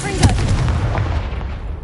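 A Confringo blasting spell explodes in the game Hogwarts Legacy, one sharp booming blast followed by a rumbling decay, loud and close, over low background game sound.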